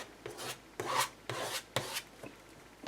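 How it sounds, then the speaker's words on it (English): A palette knife scrapes Nuvo embellishment mousse, a paint-like craft medium, in several separate broad rasping strokes, close and fairly quiet, with no talking. "Just grabbing some on my palette knife here, and I'm just kind of scraping."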